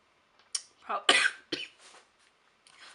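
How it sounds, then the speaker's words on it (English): A few harsh coughs in quick succession from one person nearby, with short breaths between them and no other sounds. "Sorry if I'm like coughing"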